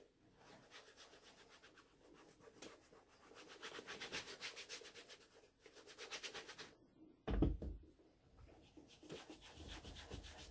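Oil being rubbed into leather by hand, a soft continuous back-and-forth rubbing close by and faint, with one brief louder bump partway through.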